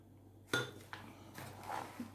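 Flour for homemade Ramadan pide dough is sifted through a sieve. A few sharp metallic clinks and taps ring out close by in an otherwise quiet kitchen, with a sharper knock at the start and softer ones after.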